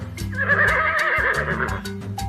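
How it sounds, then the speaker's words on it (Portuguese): A horse gives a loud, close, wavering whinny that rises and shakes for about two seconds. "Se você respondeu que é o som do cavalo, você acertou."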